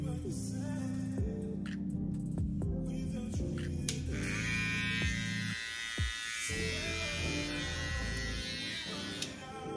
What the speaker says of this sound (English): Here goes the trimmer.